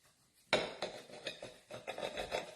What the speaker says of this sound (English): So while you're slicing, always remember a serrated knife and you'll get nice slices.